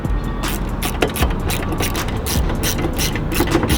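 A ratchet wrench clicks steadily while tightening the mounting bolts of a behind-the-grille light bar on a fifth-generation Toyota 4Runner, with rapid close-up pawl clicks in short repeated bursts.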